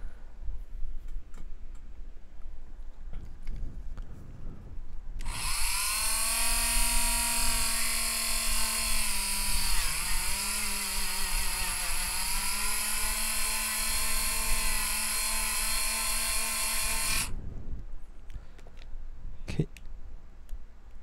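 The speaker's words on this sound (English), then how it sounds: "I will try to do a drilling" Drill boring into the thin plastic body of a Sennheiser IE80 earphone during an MMCX connector mod, a loud, steady high-pitched whine with a pitch dip midway, running about twelve seconds close up before stopping abruptly.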